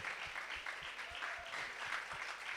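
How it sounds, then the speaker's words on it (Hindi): Warm applause from an audience welcoming a guest at the closing ceremony of a Jain scripture study camp, steady dense clapping filling the hall for a few seconds. "जोरदार तालियों के द्वारा संजय जी का हार्दिक हार्दिक स्वागत और अभिनंदन करेंगे।"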